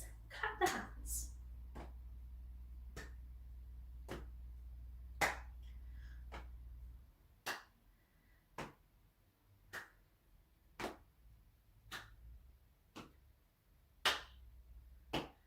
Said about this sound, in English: Tap the legs, clap the hands.